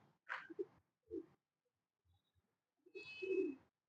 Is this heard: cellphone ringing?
no